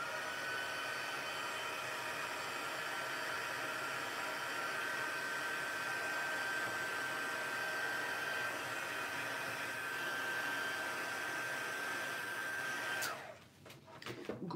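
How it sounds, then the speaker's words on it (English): A crafting heat tool blows hot air over a handmade easel card, a steady broadband whoosh that holds evenly for about thirteen seconds before cutting off, leaving brief handling noise. "I'm going to hit it with my heat tool for just a minute."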